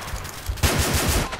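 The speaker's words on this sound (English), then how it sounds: "He was shooting." Rapid automatic gunfire in a tactical shooter video game, a quick close burst of several evenly spaced shots with nobody speaking.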